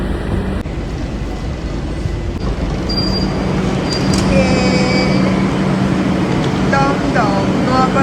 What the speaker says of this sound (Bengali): দমদম নোয়াপাড়া যাওয়ার মেট্রো।